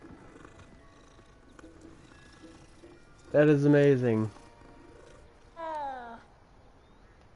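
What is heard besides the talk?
cat purring while petted in Hogwarts Legacy video game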